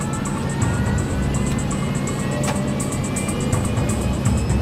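In the video game Melon Playground, an airliner's jet engines roar steadily through the takeoff roll, with a constant low rumble under a high whine and faint periodic ticks, and no voices.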